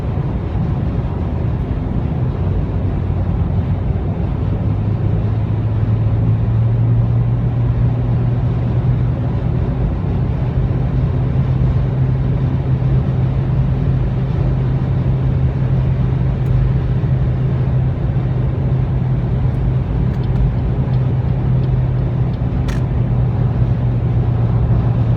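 Steady low road rumble inside a 2017 Toyota Yaris Hybrid Chic on the move, a constant broadband drone with a faint low hum rising near the start and holding throughout, no voices.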